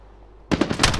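Gunfire in Call of Duty Warzone: after a near-silent moment, a sudden loud burst of rapid automatic shots rings out, alone and close.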